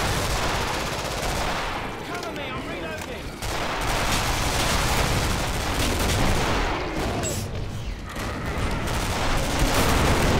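Sustained gunfire in the modded shooter Killing Floor 1, a dense, loud, nearly continuous stream of rapid shots and impacts against a King Fleshpound boss. Chatter and commotion from the game sit underneath.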